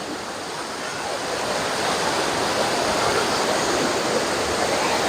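Water rushes down a stream in a steady, dense roar of flowing and splashing that swells slightly and stays loud and close throughout.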